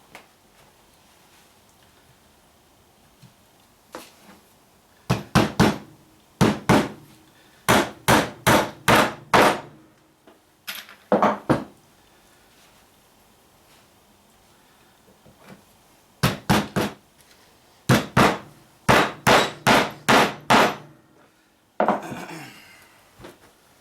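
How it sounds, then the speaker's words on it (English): A hammer drives nails through carpet into the back of a 2x4 for a Jeep hard top caddy, sharp woody knocks falling in quick rhythmic runs of four to six strikes, each run separated by brief pauses. "then nail it into the back of this 2x4"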